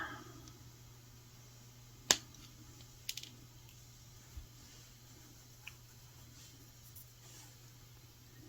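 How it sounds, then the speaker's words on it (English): Wire cutters snipping off excess jewelry wire on a beaded necklace, one sharp close snip followed by a few fainter small clicks against a quiet background hum. "I'm going to take my cutters, cut off my extra wire"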